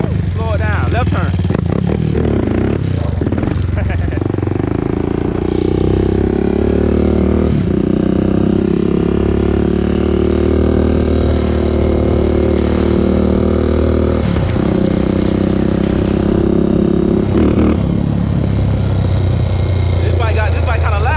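A loud 2001 Honda TRX400EX ATV engine running on a ride, a rough droning exhaust that rises and falls with throttle, close and strong, with a voice talking over it at times.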